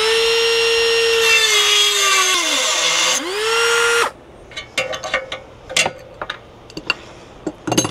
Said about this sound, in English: The Dremel is the first tool I would recommend to any DIYer.